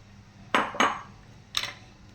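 Onions dropped into a pressure cooker holding mutton for a mutter gosht gravy, giving a few sharp clattering knocks against the metal pot: two close together, then a third after a pause, over quiet background.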